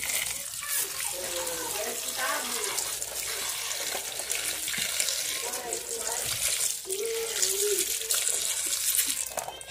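Tap water pours steadily into a kitchen sink or bowl to soak salty dried meat, a constant broad rush lasting throughout, with someone speaking briefly over it.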